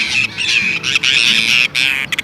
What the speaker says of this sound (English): it can range from simple caws to a whole range of robotic nasal sounds